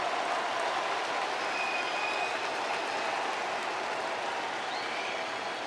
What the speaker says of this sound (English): this crowd comes alive and they're on their feet